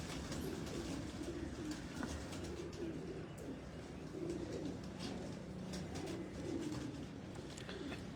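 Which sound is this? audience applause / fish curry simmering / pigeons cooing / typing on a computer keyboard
pigeons cooing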